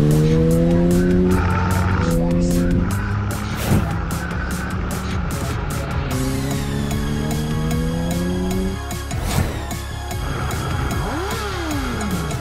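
Close, loud motorcycle engine repeatedly revving up through rising gear pitches, with sharp shifts and throttle blips, continuous and without voices.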